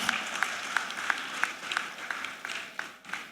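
Moderate audience applause at a women's finance summit welcoming a speaker, steady clapping with a few distinct sharp claps standing out, fairly even throughout.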